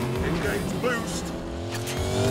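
A hypercar engine, a McLaren P1, Porsche 918 or Ferrari LaFerrari, accelerates with its electric boost engaged. The engine note rises steadily and stays loud and close under continuous talk.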